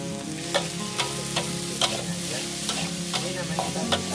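Garlic and onions fry in a pan over an outdoor fire in a garden, with a steady, close sizzle and the regular scrape of a spatula stirring about every half second.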